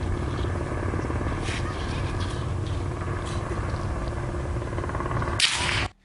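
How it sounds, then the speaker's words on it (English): A helicopter hovers overhead, a steady loud rotor drone that holds for several seconds before cutting off abruptly. "There's clearly a helicopter right there hovering this area."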